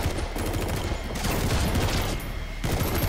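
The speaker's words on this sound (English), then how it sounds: "They fired anyway." Soldiers in Metal Gear Solid V fire their guns together in a dense, continuous fusillade, the rattling volleys loud and close with brief slight lulls between bursts.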